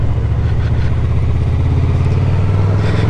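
A Honda Crossrunner motorcycle engine runs steadily close by, giving a loud, throbbing, rhythmic mid-range drone with a faint mechanical clatter and no speech.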